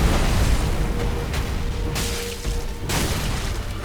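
A fire bomb bursts in Dark Souls 3 with a loud, broad boom followed by crackling roar and a couple of further sharp bursts.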